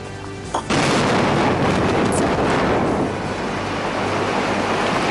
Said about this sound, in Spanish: Son distintas, todas distintas explosiones en distintos momentos y circunstancias